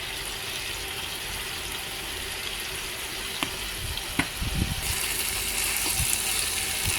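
Sponge gourd sautés in a hot pan with a steady close sizzle, and fish sauce is poured in, adding a few sputtering splashes and stirring noises toward the end.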